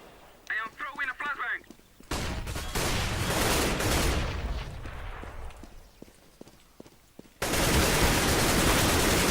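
Rapid video game gunfire in dense, sustained bursts that cut in abruptly and stop, with loud close-range volleys and a brief chirping sound effect early on, while players shout and talk over the action.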